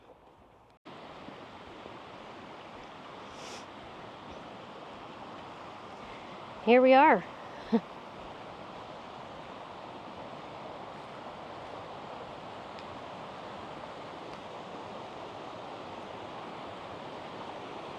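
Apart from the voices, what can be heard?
roar of a springtime waterfall in the woods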